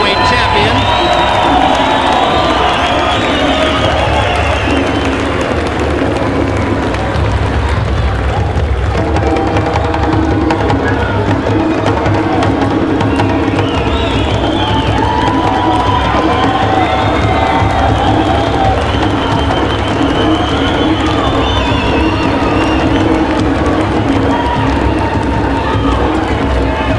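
A boxing arena crowd roaring and cheering while waiting for the undisputed heavyweight champion, a dense continuous loud din of many voices with shouts and whoops rising and falling.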